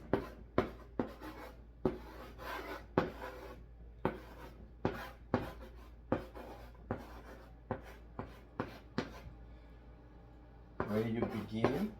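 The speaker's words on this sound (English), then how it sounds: "Let me write it down." Pen strokes scratch across paper in quick repeated bursts, a dozen or so short close scrapes at an uneven rhythm, ending in a longer scribble.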